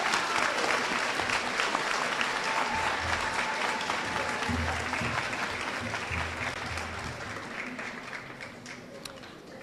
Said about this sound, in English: let's give a great round of applause for our all A distinguished students.